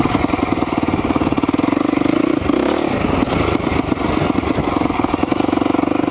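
A motorcycle rides a dirt trail, its engine a steady, loud, close putter with a slight change in pitch midway, and no talking.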